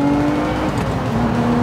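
Lotus Emira V6 with a manual gearbox, its engine revving while driving on the road, a loud steady engine drone holding one pitch and then rising slightly, heard up close from inside the car with no talking.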